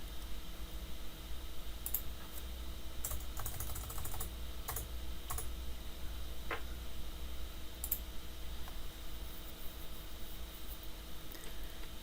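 Quiet, steady clicking of a computer keyboard in short bursts of typing, with occasional louder key taps over a constant low hum.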